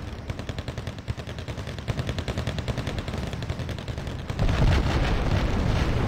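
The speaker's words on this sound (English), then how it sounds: "Come on, drop your bombs." Bombs exploding on tanks in Wargame Red Dragon, a rapid rumbling string of close blasts that thickens into a heavier, louder roar near the end.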